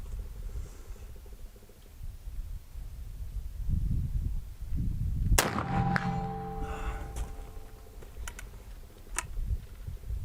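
A single sharp rifle shot from a .45-90 mini Gemmer cracks out about midway, close and loud, followed by a short fading rumble and some small clicks and handling noises.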